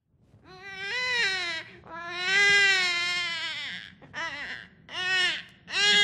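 A baby cries in a series of loud, wailing bursts with short breaks between them, close and clear, with no talking over it.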